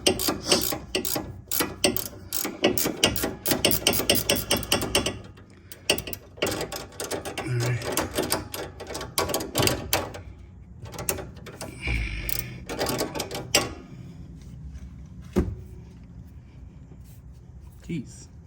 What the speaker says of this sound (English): best if you have one of these ratcheting wrenches.